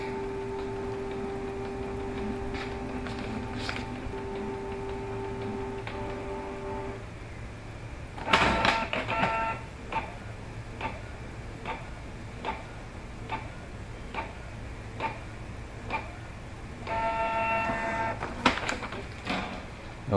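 A Canon G-series inkjet printer (G1000/G2000/G3000 type) running a nozzle check: a steady whirring hum, then a series of regular mechanical ticks and clicks as the print head moves and paper feeds, close up.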